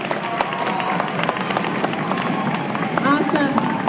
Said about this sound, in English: Let's give our guests one more Eagle round of applause.